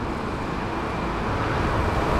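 Continuous loud roar of road traffic near a metro station, with the rumble of a car with a modified exhaust silencer passing nearby over steady broadband noise.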